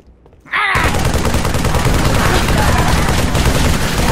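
Sustained gunfire in the first-person shooter Halo ODST erupts after a brief quiet start, a dense, loud barrage of rapid shots that continues unbroken to the end.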